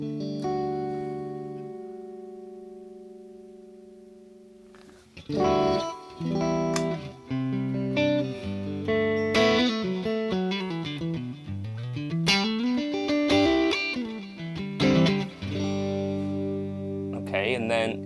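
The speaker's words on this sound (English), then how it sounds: "Let's have a dual delay." A sustained electric guitar chord fades out, then a run of picked notes repeats and trails off in overlapping, decaying echoes from a HoTone Ampero Stage dual delay set to 500 ms left and 375 ms right.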